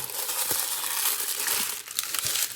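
Plastic packaging for a screen protector ordered for a Pixel 8 phone crinkles and crackles up close as it is unwrapped, a continuous rustle with a few sharper crunches and no voices.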